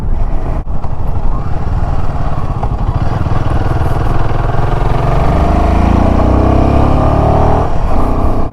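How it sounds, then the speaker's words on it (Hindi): Royal Enfield Himalayan 450 engine drones steadily while ridden in sixth gear at about 70 on a mountain road, loud and close, with its pitch slowly climbing under heavy wind rush and no talk. "हल्का सा इंजन स्ट्रेस आउट लग रहा है 6th में"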